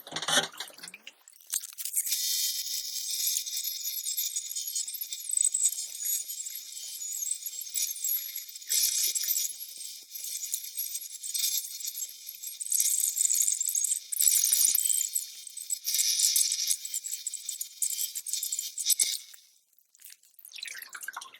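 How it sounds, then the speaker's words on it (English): Steady, wet grinding hiss of a prehnite stone held against a 600 grit lapidary wheel, continuous and fairly loud for about seventeen seconds with slight surges, then stopping. "this is the 600 grit grind"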